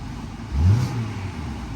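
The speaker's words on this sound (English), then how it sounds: "Oh, little rev there." A 2019 Chevrolet Silverado pickup with bullet holes gives a single brief rev over its idle. The engine rises in a quick swell, then settles back to a smooth hum, heard from close by.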